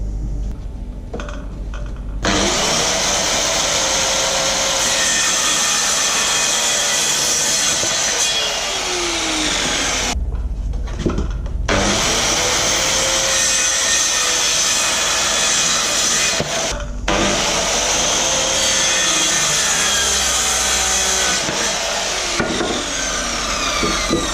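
Power tools cut wood for a quail hutch, with three long, loud, close stretches of high whining cutting noise separated by brief drops to near quiet.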